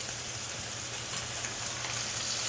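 Ribeye steak frying in a pan, with fat rendering, gives a steady, dense sizzle that holds evenly loud and close throughout, with no voices.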